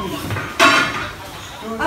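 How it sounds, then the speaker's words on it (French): Dishes and crockery being put away in a kitchen, with one brief louder clatter of dishware partway through, under ongoing conversational talk. "ça commence à ranger un petit peu la vaisselle aussi"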